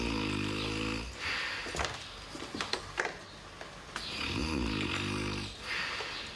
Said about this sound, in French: l'appartement est secoué par le ronflement